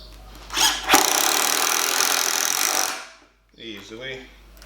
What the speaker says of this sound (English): so 50 mil chipboard screws